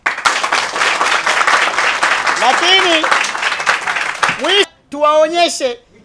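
Audience at a press gathering of adult education institute members applauding, a dense burst of clapping under a speaking voice that continues over it, then fading as talk takes over.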